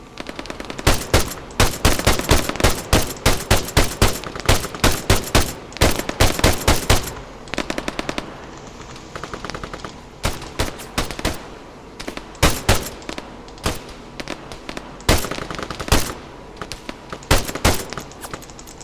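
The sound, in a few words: machine gun fire in the video game ARMA 3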